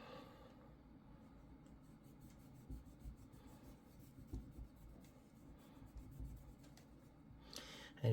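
Old crumbly thermal paste is wiped off the heatsink of a Lenovo ThinkCentre M73 mini PC, a soft, close rubbing and scraping with faint irregular strokes at low volume.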